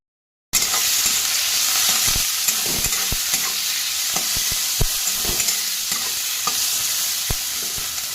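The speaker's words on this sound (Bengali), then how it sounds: "প্রথমে আমি পেঁয়াজ আর রসুনটা ভাজা করে নেব" Onion and garlic frying in hot mustard oil with a little salt and turmeric, for spinach with prawns. After a brief silence, a loud, continuous sizzling hiss begins, with scattered spatula clicks and scrapes. Nobody speaks.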